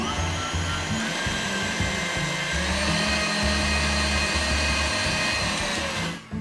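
Electric mixer running at high speed through yogurt cake batter with Greek plain yogurt, a steady loud motor whine with a constant low hum, unbroken until it cuts off at the end.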